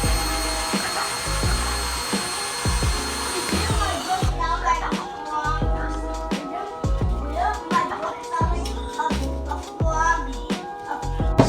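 A power drill whirs in repeated short bursts at close range, pulsing on and off steadily with a few clanks in between.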